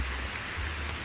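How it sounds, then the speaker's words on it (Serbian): Heavy, steady rain pours down in the Amazon jungle, a dense continuous hiss of downpour that fills the whole clip at an even level with no voices. "Kiša ne pušta, stvarno ne pušta danima."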